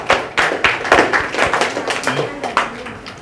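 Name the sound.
students clapping at a celebration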